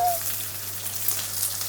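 Chopped onion sizzles steadily in a hot pan, a soft continuous hiss over the whole stretch with no talk over it.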